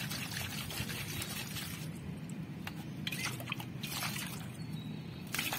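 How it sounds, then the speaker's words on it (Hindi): Water pours steadily from the pipe of a Supreme solar water heater's inlet tank, which has an overflow problem, making a continuous, close splashing gush that runs unbroken throughout. "पानी निकलता है इसका"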